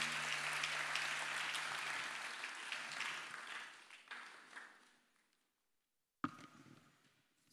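A church congregation at a Haitian church gathering in Santo Domingo applauds a pastor steadily for several seconds, the clapping gradually thinning out and fading to silence before a brief noise.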